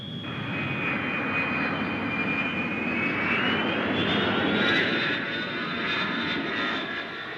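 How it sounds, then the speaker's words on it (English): An Avro CF-100 jet fighter flies past with a steady, loud engine roar and a high whine that rises slightly in pitch midway, continuous and alone with no voices. "a plane like this took off over the Great Lakes"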